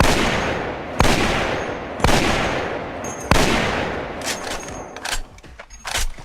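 Sniper rifle shots from the online shooter Soldier Front 2, three loud, sharp blasts about a second apart with long decaying tails, followed by quieter scattered gunfire and clatter.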